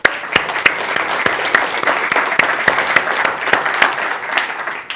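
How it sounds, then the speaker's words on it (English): A church audience applauds the volunteers who set up the building, a steady roar of many hands punctuated by a few loud, sharp claps close to the recorder, continuing evenly throughout. "So we can just give them a round of applause."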